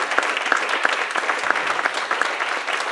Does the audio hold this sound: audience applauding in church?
yes